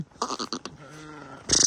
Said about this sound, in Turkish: Aha koyunlar gitti.